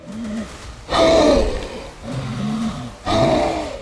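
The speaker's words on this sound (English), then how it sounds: "Its heavy breathing showed exhaustion." Heavy, rasping breaths from a large creature, loud and close, alternating between deep inhales and rumbling exhales in a slow rhythm.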